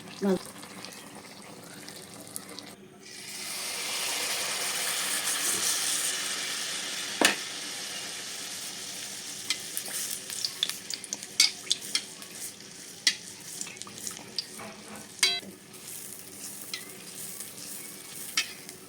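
Palm fruit malpua fritters frying in hot oil make a rising bubbling sizzle that fades into crackles, with sharp utensil clicks and clatters through the second half, close and moderately loud.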